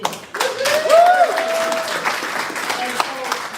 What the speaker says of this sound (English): we have a round of applause to all of our county employees who serve every day for this community